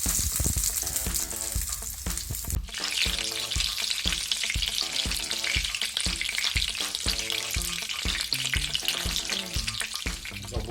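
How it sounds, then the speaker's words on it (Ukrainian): Ukrainian sicheniky, minced patties, fry in a pan with a steady crackling sizzle that swells partway through, half buried under rhythmic background music. "Січеники вже на сковороді обсмажуються."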